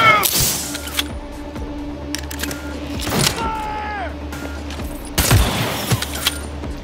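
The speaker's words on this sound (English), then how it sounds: "I have a sniper rifle that fires guided missiles." A sniper rifle firing guided missiles in the video game Cyberpunk 2077: a few sharp, loud shots spaced seconds apart, each followed by whooshing and mechanical game effects, with a voice talking in between.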